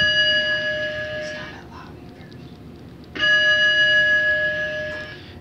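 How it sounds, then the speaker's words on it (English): An elevator bell rings twice in a building, each a bright sustained chime lasting over a second, separated by a quiet gap with faint room noise. "you can hear the ringing of the bell"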